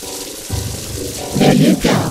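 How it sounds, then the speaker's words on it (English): A water tap runs for hand washing in a bathroom in an animated short, a steady splashing stream under a loud music and voice bed. "Next, turn on water tap."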